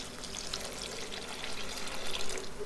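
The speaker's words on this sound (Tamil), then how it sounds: "தேவையான அளவுக்கு தண்ணி ஊற்றிட்டு நம்ம கொதிக்க விட போகிறோம்." Water pours steadily into a pot of egg salna, a soft, even splashing and trickling for a few seconds at low level, with no talk.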